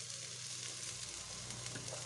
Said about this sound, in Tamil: நல்லா ஃப்ரை பண்ணிடலாங்க அரிசியை